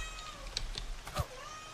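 A house cat meows faintly indoors, two soft drawn-out cries over a constant low background hum.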